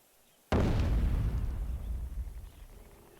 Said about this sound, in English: I do like how accurate the artillery in this game is.